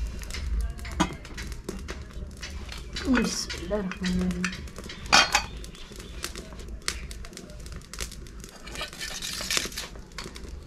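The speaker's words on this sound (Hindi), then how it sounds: "पैन को रखते हैं चूल्हे पे" A pan is set down on a village clay stove while makki roti and sarson saag are being cooked, giving a single short knock amid outdoor bird calls and ongoing talk.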